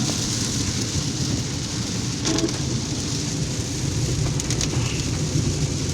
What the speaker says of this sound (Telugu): వర్షం ఎక్కువ పడిపోతుంది.